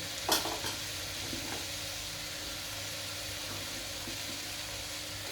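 Potatoes stirred into a hot pan of frying vegetables for khichdi, a steady low sizzle running throughout with a few scraping stirs near the start.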